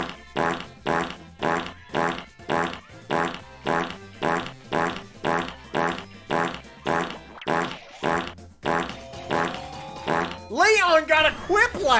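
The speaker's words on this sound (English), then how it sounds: "the fart soundboard noise" Repeated fart soundboard noises in a Jackbox party game, about a dozen loud, evenly spaced blasts in a steady rhythm, ending in a warbling, squeaky burst.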